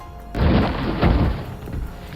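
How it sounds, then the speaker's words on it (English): A loud, deep explosion booms suddenly, then rumbles on in a heavy low roar that slowly fades. "Suddenly, a loud explosion shakes the entire building."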